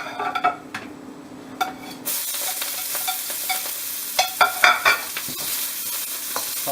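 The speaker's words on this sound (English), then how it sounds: "Toss in the ginger and green onion, and in goes our crab." Ginger and green onion hit hot oil in a flat-bottomed wok with a sudden loud sizzle about two seconds in, then a steady hiss broken by sharp scraping and tossing clatters as the aromatics are stirred before crab is added.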